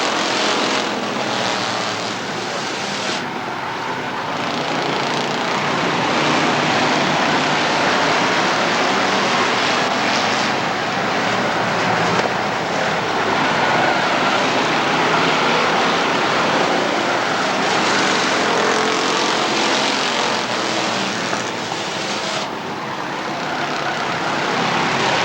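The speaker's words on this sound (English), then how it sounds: "So here comes your leader as he squeals his way through the turn." Race car engines roar through a turn at Rockford Speedway during a Wednesday night feature event, a loud, continuous mechanical drone that swells and fades slightly as cars pass, with no voices over it.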